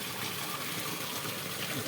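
Heavy monsoon rain pours down in a village, a dense, steady hiss of falling and running water close by with no voices.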